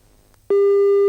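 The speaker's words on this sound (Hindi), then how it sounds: "लगता फोन कट गया।" Telephone busy tone after a call disconnects, a steady loud electronic beep starting abruptly after a quiet moment and holding to the end.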